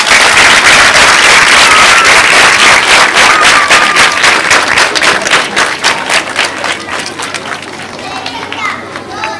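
Children at a school assembly clap loudly for their head teacher, a dense burst that gradually thins and softens, with children's voices and chatter mixed in.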